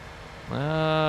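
Tractor engine in Farming Simulator 19 revs up after a quiet half second into a steady, loud harmonic drone that holds on alone, with no talk over it.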